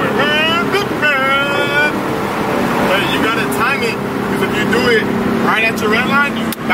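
A 2016 Ford Mustang GT engine climbs repeatedly toward its red line and bounces off the rev limiter, giving loud, close, rising revs in several quick bursts over a rough background rumble.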